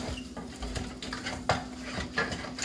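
Ingredients sautéing in a pan for a coconut-crusted fish dish, with a soft steady sizzle under irregular clinks and scrapes of a utensil against the pan, a couple of sharper knocks standing out.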